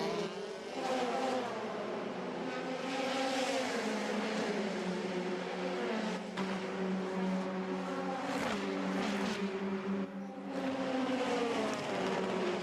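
F3 Dallara single-seaters race at Spa-Francorchamps, engines whining and rising as cars pass, a steady loud mechanical drone with shifting pitch under faint distant noise.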